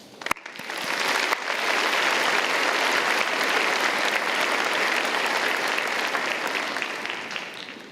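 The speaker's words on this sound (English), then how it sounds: "Clap for yourself." A graduating engineering class of 2025 claps for itself at a commencement ceremony, sustained dense applause from a large crowd filling the hall, steady and loud for several seconds before tapering slightly.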